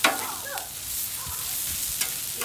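Food turned with a spatula on a Blackstone 28-inch flat-top griddle while cooking cheesesteak fixings, a steady frying sizzle with a few scraping clicks and taps, close and moderately loud, no voices.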